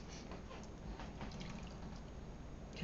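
Pot roast cooking juices from a Dutch oven trickle into a dish, a faint, brief liquid pour and drip against a quiet kitchen background.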